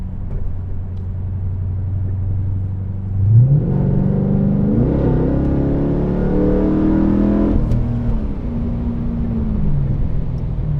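A Pontiac G8 GXP V8 sedan accelerates hard on a road, its engine rising through the revs in a loud, steady drone with gear changes partway through, no talking over it.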